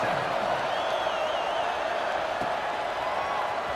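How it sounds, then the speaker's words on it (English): Stadium crowd in a football video game, a steady loud roar and murmur filling the whole stretch, with faint whistle-like tones drifting over the dense buzz. "this crowd is buzzing after that last score"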